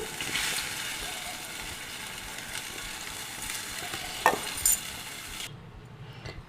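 A pot of boiling water bubbles and hisses steadily while little millet is stirred in for upma, with a couple of sharp utensil clinks before the sound cuts off.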